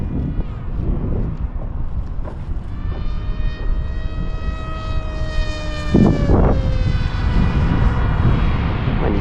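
An RC Fleet Sonic Wing 1200mm model plane makes a pass on a windy day, its electric motor whine rising and falling over gusty wind noise and louder as it nears the middle of the pass.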